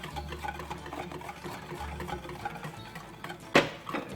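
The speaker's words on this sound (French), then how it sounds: "Donc on mélange dedans et on mélange aussi." A spoon stirring fanouripita batter of orange juice and baking soda in a bowl, soft wet rhythmic scraping and patter up close, with one sharp louder knock near the end.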